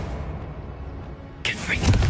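A spell burst in a wizarding video game, a sudden bright crackling zap arriving after quiet background, short and fairly close.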